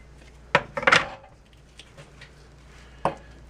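A knife cuts through raw chicken on a board in a few sharp, close chops and cracks, with quiet gaps between them.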